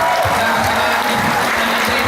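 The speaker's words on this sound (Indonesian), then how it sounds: "tepuk tangan untuk Polres" Crowd applause at an outdoor political rally in Indonesia, a continuous, dense patter of many people clapping, loud and close for the whole short stretch.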